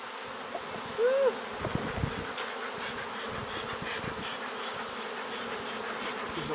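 Honey bees buzz steadily around an open hive being moved to a new spot in September, a dense, close insect drone with one brief louder pass near the start.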